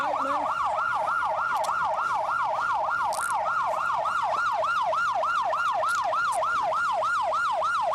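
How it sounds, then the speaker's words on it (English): A loud, continuous wailing police siren rising and falling rapidly in a steady cycle, close by, with faint background noise. "Turn the siren off."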